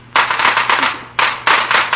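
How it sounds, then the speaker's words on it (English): A string of firecrackers pops off as a radio drama sound effect, two rapid bursts of crackling bangs separated by a brief pause, loud and close with no voices. "We can sell them for 10 cents a string, and they pop like the dickens."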